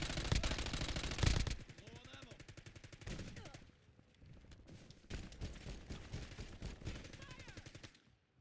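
Rapid bursts of video game gunfire rattle in quick automatic volleys, loud at the start and then recurring in shorter clusters, with a player's voice heard among the shots.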